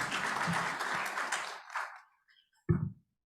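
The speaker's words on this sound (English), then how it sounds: "Round of applause for everyone who contributed." A burst of applause from a webinar audience, steady clapping that fades out, followed by a brief final patter of claps.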